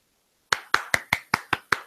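Slow, polite golf clapping: seven evenly spaced hand claps, crisp and close, beginning after a moment of silence and continuing at a measured, unenthusiastic pace.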